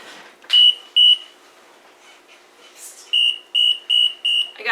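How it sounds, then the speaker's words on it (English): A kitchen timer beeps while hot process oatmeal and honey soap cooks: two loud shrill beeps, a pause with soft background sounds, then four more evenly spaced beeps close by. "I got to reset my timer here."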